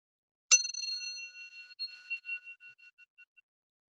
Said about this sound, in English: you can listen to this sound of this bell until you can hear no more